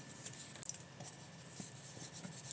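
Pen sketching on paper for a Metal Gear Solid Snake drawing, a soft continuous scratching with short strokes and rubbing, close and quiet throughout.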